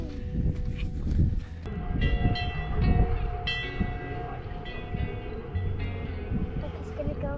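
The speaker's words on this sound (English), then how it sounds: "Oh look, there's the train." A train rolls past at Calico Ghost Town, giving a steady mechanical rumble with bright metallic squeals and tones over it. Voices of onlookers are heard now and then.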